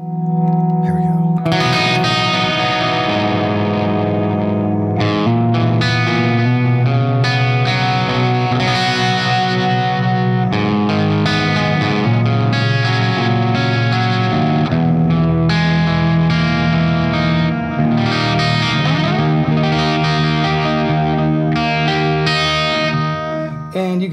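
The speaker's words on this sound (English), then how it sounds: "Listen to how nice this delay sounds." Electric guitar played through a pedalboard with a delay pedal, sustained chords and notes ringing with repeating echoes and a lush, slightly driven tone, loud and continuous throughout.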